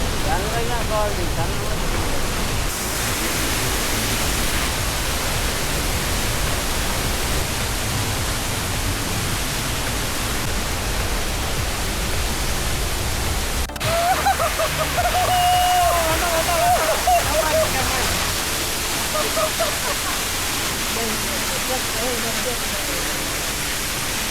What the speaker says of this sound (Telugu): చూడండి ఎంత బాగుంది అసలు వాటర్ ఫాల్స్